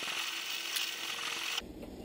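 An axe blade from a Kelly Works Flint Edge axe rubs steadily back and forth on sandpaper, giving a continuous, close scraping hiss that stops abruptly near the end.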